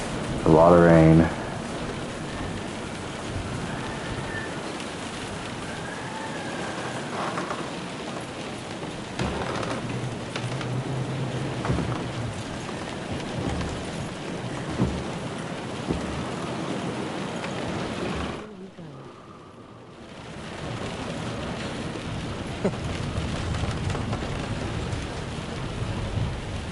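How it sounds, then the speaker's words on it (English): Steady, dense rainfall hisses throughout in the video game Kingdom Come: Deliverance II, with low rumbles beneath and faint voices now and then; it drops out briefly near the end before resuming. "A lot of rain."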